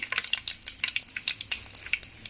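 Mustard seeds, cumin and peanuts spluttering in hot oil in a pan, a steady run of sharp close crackles and pops with no talking.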